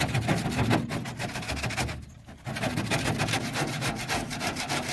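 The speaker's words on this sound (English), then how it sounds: "You can just go through and scrape away the glue and the foam." Plastic scraper dragged hard across the underside of a Mercedes W124 bonnet, scraping off old glue and foam in a continuous rough, rasping rhythm of quick strokes, close and steady with one brief pause midway.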